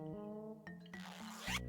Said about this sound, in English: Why is there a zipper sound when I'm giving them their tray?